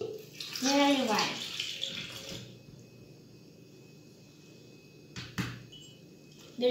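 Milk poured over sliced bananas for a New Year dessert: a brief, close splashing pour near the start with a voice overlapping it, followed by a quiet stretch and a few soft clunks.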